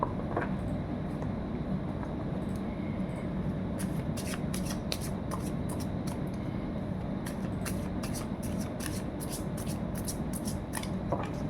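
A deck of tarot cards being shuffled up close, quiet riffling bursts and flicks repeating at an uneven pace over a steady low background hum, with no speech.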